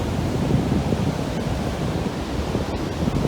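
Waves wash steadily onto a rocky beach strewn with large washed-up rocks on a rainy day, a continuous close, loud roar of surf with wind noise and no voices.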